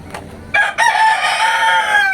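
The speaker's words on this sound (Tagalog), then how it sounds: "Yung sumasabay yung manok." A rooster crows loudly and close by in one sustained, bright call that rises and holds, with no talk over it.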